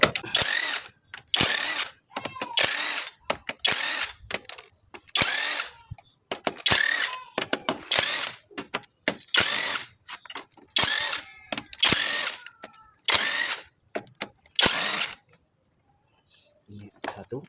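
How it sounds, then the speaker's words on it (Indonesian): Power tool zipping out deck cover bolts on a Kubota KND 105 engine during teardown, about ten loud separate bursts of a second or so each in a steady rhythm, close by, with brief gaps and some voices between the bursts. "Pelepasan baut tutup dek."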